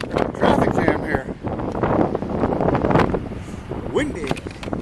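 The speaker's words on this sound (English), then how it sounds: "Windy." Wind buffets a microphone while cycling on a windy, warm late-winter day in Middlesex, New Jersey, a loud continuous rumbling roar with gusts, and a person talks over it.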